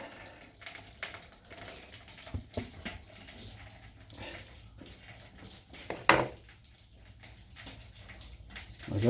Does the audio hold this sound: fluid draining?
yes